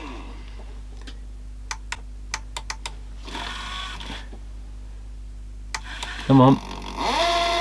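A National NV850 VCR on rewind with a worn idler gives a series of sharp mechanical ticks and clicks, then bursts of whirring motor and grinding gears, with a low hum underneath and a brief spoken word near the end.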